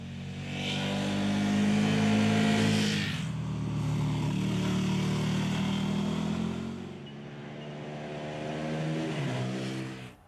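A KTM Super Duke R motorcycle ridden hard, its engine revving up and down through gear changes with throaty, buzzing harmonics, close and loud throughout, with no voices.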